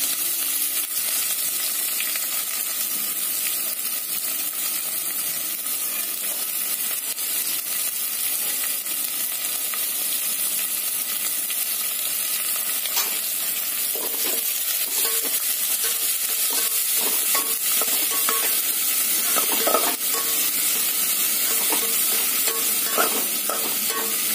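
Onion and chili pieces fry in oil for biryani, a continuous close sizzle with frequent stirring scrapes and clinks growing busier toward the end, no talking.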